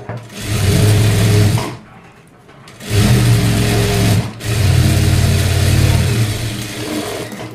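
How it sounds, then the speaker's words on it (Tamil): A sewing machine stitches a puff-sleeve blouse in loud, close bursts of rapid whirring, running in three stretches separated by short pauses. "இப்போ இதை ஓப்பன் பண்ணி நம்ம ஒரு படிமான தையல் போட்டுக்கலாம்"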